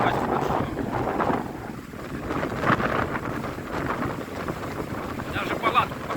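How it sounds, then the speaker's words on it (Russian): Strong wind buffets the microphone at Syamozero lake in Karelia, a dense, continuous roaring rush with gusts swelling and fading throughout, loud and close, with no clear talk over it. "Даже палатку поставить не удалось, настолько дует."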